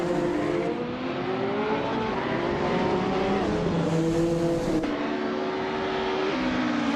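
Race car engine of a 1997 Hanos Esperante GR1 in a racing video game, a loud continuous high-pitched drone that rises and shifts pitch through gear changes, with other cars' engines blending in.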